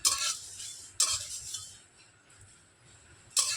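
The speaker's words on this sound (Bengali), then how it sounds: "নাড়াচাড়া করে সমস্ত মশলাগুলোকে এবার ভেজে নেব" Spices for a raw mango pickle are stirred and fried in a pan, with three sharp scraping strokes of a utensil against the metal, separated by quieter stretches of low sizzle.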